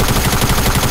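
Steady rapid gunfire in Fortnite, a close, loud stream of shots rattling without a break for a single second.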